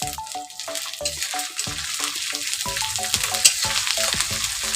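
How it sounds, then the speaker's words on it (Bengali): Ginger garlic paste frying in a hot pan for a fig (dumur) curry, a continuous sizzle broken by repeated sharp clanks of a spatula against the pan. "এখন দিয়ে দেবো আদা রসুন বাটা।"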